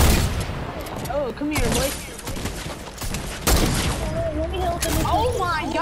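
Fortnite gunfire rattles out in repeated bursts, with sharp loud volleys near the start and midway, mixed under excited players talking over one another.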